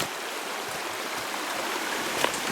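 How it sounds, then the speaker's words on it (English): A flowing creek on a hiking trail, steady broadband rushing and babbling water close by, continuous and fairly loud with no voices over it. "just gotta cross this creek one at a time"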